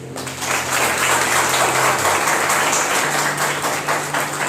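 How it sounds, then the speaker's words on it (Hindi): Clapping from a congregation at a prayer service: steady, dense applause from many people, loud and sustained throughout with a low hum beneath it and no talking. "आइए परमेश्वर की बड़ाई करें और उसके लिए ताली बजाएं।"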